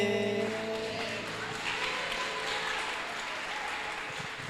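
A church congregation applauds steadily, a dense wash of clapping that holds at an even level throughout with a faint voice underneath.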